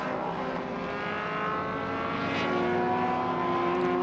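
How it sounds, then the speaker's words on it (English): A 1967 Porsche 912 race car running at Indianapolis, a steady, droning engine note holding through the whole stretch with a slight swell, heard at moderate distance without talk. "'67 Ross Cheek in the Porsche 912, running in 15th"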